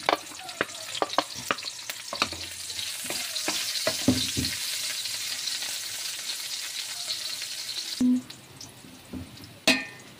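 Chopped onion sizzles and sautés with ginger in a hot pan for chicken tinola, with steady frying hiss and sharp spatula clacks and scrapes that cluster early, then fade to a softer sizzle.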